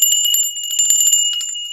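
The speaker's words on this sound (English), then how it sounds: "Tinkly bells" Tinkly bells ring in a quick, bright jangle of many small strikes, loud and close, with steady high tones running underneath and no voices.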